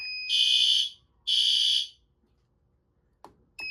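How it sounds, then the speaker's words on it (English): A shrill piezo buzzer beeps twice in long, piercing tones, then a short silence, a soft thump, and the start of another beep. "this piezo's gonna make noise"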